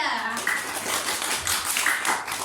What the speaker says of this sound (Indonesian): Tepuk tangan untuk Mbak kelompok 3.